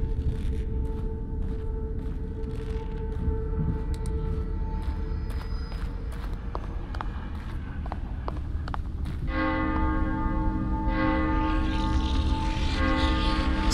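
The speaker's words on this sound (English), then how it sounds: "The bell. They're drawn to it." Church bell tolling in the horror game The Evil Within, a steady ringing tone over a dense, rumbling game ambience that swells and brightens in the final seconds.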